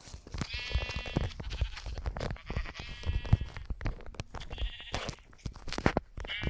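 Sheep in the Minecraft video game bleat repeatedly in short wavering cries, several calls spaced through the stretch over a clicky, busy background.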